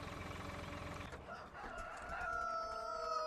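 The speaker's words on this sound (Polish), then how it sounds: "Cześć moje kury" Chickens and a rooster on a farm in the video game Farming Simulator 2013, clucking with a rooster's crow layered over steady background game audio, moderately loud and close, with no talking.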